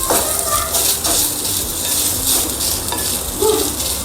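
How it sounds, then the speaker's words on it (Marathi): A whole onion roasting in a pan for misal masala gives off a close, steady sizzle, with occasional stirring scrapes and soft pan knocks. "इथे आता कांदा भाजून घेऊया."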